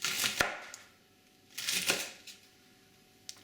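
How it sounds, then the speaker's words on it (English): A knife chops root vegetables into big chunks on a board for a chicken stew, two bursts of a few quick close cuts with a sharp thud, then a long quiet gap and one last tap. "I'm just going to chop nice big chunks like so"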